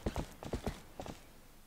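A horse gallops in The Legend of Zelda: Twilight Princess HD, a quick run of clip-clopping hoofbeats in uneven pairs at moderate distance, thinning out and fading to quiet near the end.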